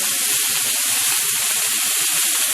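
Salt-and-pepper seasoned beef, marinated in wine, sears on a hot plate with a steady, loud, close sizzling hiss that holds without pause and has no voices over it.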